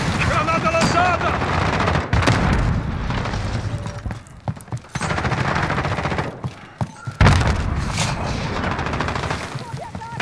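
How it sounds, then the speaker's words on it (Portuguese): Call of Duty Modern Warfare Battle Royale combat, where a thrown grenade explodes with a heavy boom amid loud, dense gunfire, close and chaotic, with a voice speaking over the fighting. "Granada lançada!"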